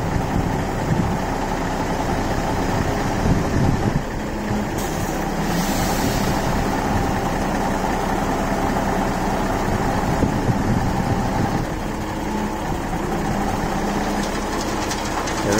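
A cement mixer truck pours concrete for a chicken enclosure, its engine rumbling steadily and loudly throughout with a continuous churning, grinding wash, close by and without speech.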